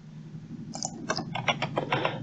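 Computer keyboard keys are pressed at a desk while working in Blender, giving several close, crisp clicks in a quick irregular run over a low room hum.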